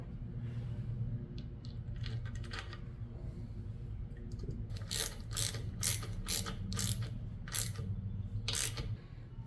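Ratchet wrench tightens a bolt on a half-VW engine during rocker installation, with a few slow clicks early on, then a run of sharp, loud, rhythmic ratcheting bursts close up.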